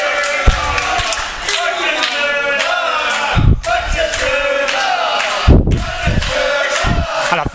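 Wrestling crowd at a FutureShock Reloaded show roars and cheers loudly and steadily, with shouts and a couple of sharp slams or thuds cutting through the noise.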